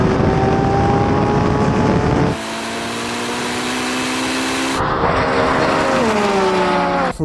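A Lamborghini Revuelto and a Ferrari SF90 launch side by side in a drag race, their engines roaring loud and close, pitch climbing steadily and dropping sharply at each gear change, with no talking.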